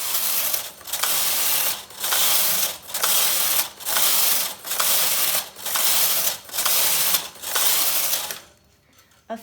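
A punch card knitting machine carriage sweeps back and forth across the needle bed in eight steady, evenly spaced passes, each a loud mechanical whirring rattle with brief pauses between, ending in near silence.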